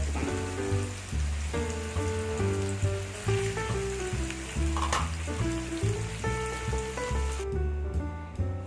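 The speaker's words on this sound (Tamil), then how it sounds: "இதையும் வறுத்து கொஞ்சம் மீடியம் ஃப்ளேமில் வச்சு வருங்க" Fish frying in a pan over a medium flame for a Tamil-style fish curry, a steady dense sizzle running throughout under background music, with no talk.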